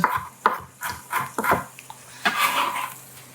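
Tomatoes and peppers go into a pan of roasting garlic: a series of sharp, close clatters and thuds of food and utensils landing against the pan, followed by a brief sizzling rustle.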